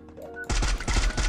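Burst of rapid gunfire from the Free Fire battle-royale game, several sharp shots in quick succession after a quiet lead-in, loud and close.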